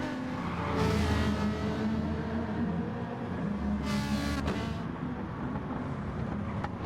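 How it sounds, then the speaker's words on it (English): A Ferrari 458 Italia and a C7 Corvette GT4 race each other at Interlagos in Gran Turismo, with loud, sustained engine roars and revving, one car pulling close and whooshing past. "A Ferrari and a Corvette"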